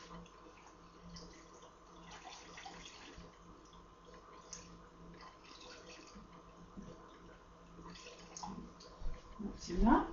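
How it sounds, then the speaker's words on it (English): Water is poured into a pot over two beef stock cubes for a pepper steak pie filling. It trickles faintly under a person talking, then ends in a louder, closer splash and clatter. "we're going to cover this with water."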